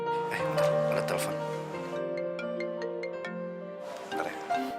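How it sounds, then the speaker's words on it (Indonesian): A phone ringtone plays as a melodic electronic tune for several seconds, steady and fairly loud, with people talking over parts of it. "Bentar, ada telepon."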